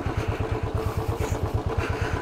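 A motorcycle ridden on a hill road from Bani toward Jammu with failed brakes, relying on the upper brake alone on a surface where the bike could slip. Its engine throbs in a steady, rapid pulse, close and continuous, with no talk.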